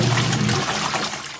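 Portable mini compact twin tub washing machine churning soapy water while washing clothes, a loud continuous sloshing and swirling with a low motor hum.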